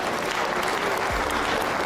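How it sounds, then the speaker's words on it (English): An audience applauds for the young people in the room, a dense, steady wash of clapping that stays at full strength throughout. "Let's clap it up for the youngsters."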